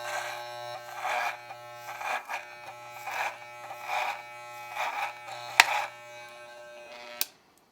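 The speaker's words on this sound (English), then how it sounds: "glad I oiled that." An electric beard trimmer, freshly oiled and clogged with beard product, buzzes steadily close up with a pulsing, slightly bogging drone and a couple of sharp clicks near the end.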